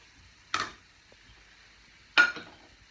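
Minced garlic and diced bell peppers sauté in a pan with a quiet, steady sizzle, broken by two brief, sharp scrapes of stirring against the pan.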